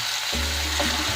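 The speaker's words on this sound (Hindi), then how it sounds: "अब मैं इसमें डाल दूँगी 2 table spoon oil, 1 table spoon डाल दूँगी अदरक लहसुन पेस्ट और इसे 2 मिनट पकाऊँगी" Ginger garlic paste frying in oil for chicken jalfrezi, a steady close sizzle with a low hum running under it for the whole short moment.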